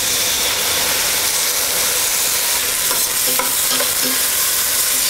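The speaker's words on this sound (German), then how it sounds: "Als nächstes mit Rotwein ablöschen." Red wine poured into a hot pan to deglaze a Saxon beef roulade, a steady loud sizzle and steamy hiss with faint stirring scrapes, close up and without talk.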